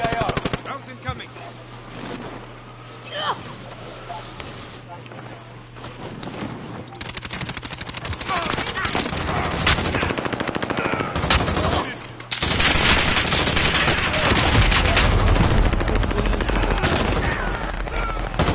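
Video game gunfire with incoming rounds: rapid automatic bursts and scattered shots building into dense continuous firing, with a voice speaking over the early part.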